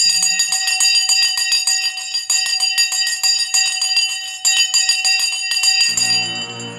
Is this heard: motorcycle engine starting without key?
no